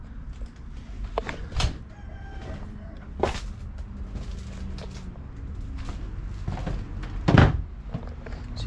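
Chickens cluck and squawk in short bursts, with one louder call near the end, over a steady background hum and occasional thumps.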